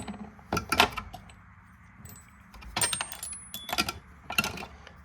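Wera long and stubby hex keys clink and rattle together in a tool cart drawer, with several bursts of bright metallic jangling up close, separated by short pauses.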